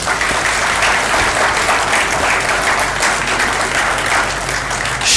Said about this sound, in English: to Fakhr Zaman, our Director of Academics, a big clap for him.